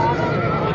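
A mare at a rural horse market gives a short, loud neigh that lasts under a second, mixed with people talking nearby.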